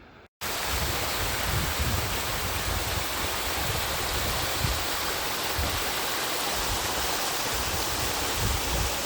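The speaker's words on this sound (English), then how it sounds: "Nice little waterfall." Small waterfall in Grand Teton National Park, a steady rushing hiss of falling water heard close and loud, constant throughout after a brief quiet start, with no talk.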